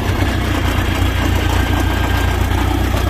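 A 1973 Case 870 tractor engine runs in reverse gear with a steady, loud, close mechanical drone and rumble, even and unbroken throughout with no talking.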